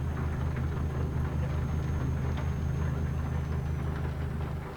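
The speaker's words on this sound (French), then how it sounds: "Bah moi depuis le démarrage, mais il pleut." Steady in-game rain hiss from Euro Truck Simulator, dense and continuous over a low, droning truck engine rumble, filling the scene evenly with no voices.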